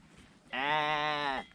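A sheep on a mountain hiking route lets out one loud, close, drawn-out bleat lasting about a second, with quiet outdoor ambience before and after.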